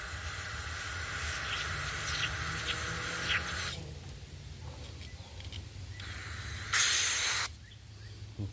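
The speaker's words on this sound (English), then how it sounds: "Let me go grab some carb spray and clean that real quick." Carburetor cleaner sprayed onto the carburetor of a Troy-Bilt TB110 push mower, a steady hissing aerosol spray for several seconds, then quieter pauses and one more loud short burst of spray.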